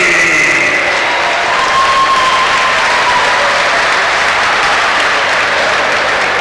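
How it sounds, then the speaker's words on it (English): A boxing crowd applauds and cheers after a Melbourne bout, a loud, sustained roar of clapping filling the venue while a whistle-like tone glides faintly through the noise. "how about a big round of applause"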